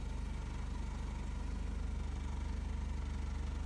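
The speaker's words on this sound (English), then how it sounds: "It's idling now, no problem." A Porsche 944 engine with a hard-starting fault idles steadily, a low, even rhythmic chug that is close and unbroken, with no talk.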